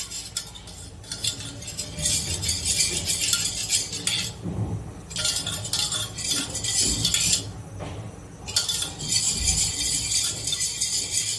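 Farali kadhi batter being stirred and mixed by hand in a metal pot, with repeated bursts of scraping and clinking that come and go in rhythm, close and fairly loud, with no talking.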